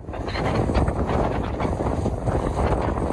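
Strong, steady wind roars and buffets the microphone during a spring bicycle trip in stormy mountain conditions, a dense, continuous rush with no voices.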